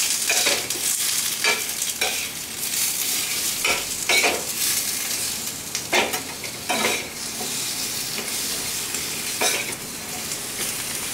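Paneer pieces fry in salt on a hot tava for a desi chilli paneer tikka, giving a steady close sizzle with repeated scraping and stirring strokes of a spatula throughout, and no voices.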